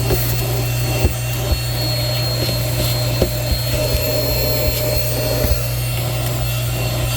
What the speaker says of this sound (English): Do a complete vacuum while I'm in here